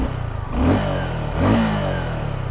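A 2024 Suzuki Gixxer SF 250 faired sport bike with dual exhaust fires up and settles into a steady thumpy idle, with two rising revs blipping the engine up and back down, close and loud throughout.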